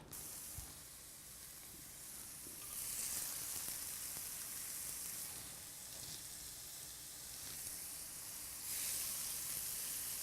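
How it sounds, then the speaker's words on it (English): Beef patties browning in a pan: a steady, soft sizzle and hiss of frying meat that swells louder in waves, with no talk. "we're ready to begin browning our patties"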